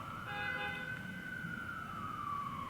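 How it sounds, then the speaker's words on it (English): An emergency siren wails faintly in the distance in downtown Los Angeles, its tone slowly falling over a low background of city noise. "I just moved to downtown LA and the sirens and the noise is definitely more intense"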